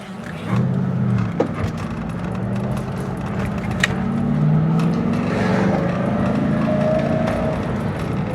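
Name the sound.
Mustang Cobra engine accelerating on first drive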